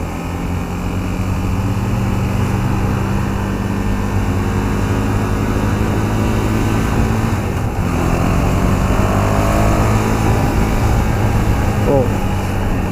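A 2018 KTM Duke 390 motorcycle engine pulls steadily during a test ride, a continuous close drone with wind rush and only slight pitch changes.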